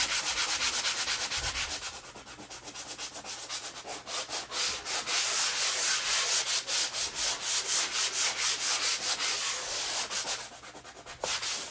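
Hand sanding roughs up a surface on a large rustic round floral medallion, a steady close scratchy rubbing in quick back-and-forth strokes that runs almost continuously, with brief pauses between bursts.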